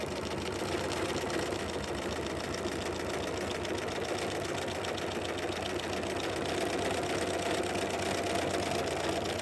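A sewing machine stitching a quilt block, running steadily and continuously up close with an even rapid mechanical chatter throughout and no talking.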